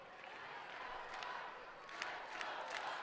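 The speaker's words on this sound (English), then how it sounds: "Let's go Bucks now from the hometown faithful" Home crowd of Ohio State Buckeyes fans chanting rhythmically late in the third period of a college ice hockey game against Michigan in Columbus; a distant, fairly quiet arena roar with swelling shouted bursts.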